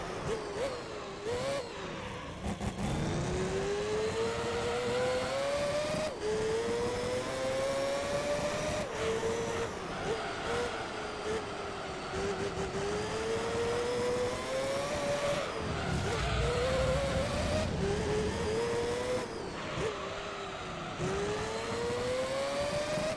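Race car engines whine and rise through gears in a Gran Turismo 3 race, a continuous loud engine drone with pitch sweeps repeating every few seconds, no talking.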